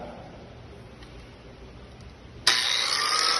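Angle grinder spinning up and starting a 37.5-degree bevel cut on marked metal, a sudden loud bright whine that begins abruptly about two-thirds through after a quiet, low background hum.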